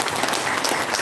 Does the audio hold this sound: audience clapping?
yes